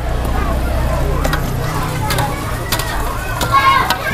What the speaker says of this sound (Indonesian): Iya, ini lagi goreng nih.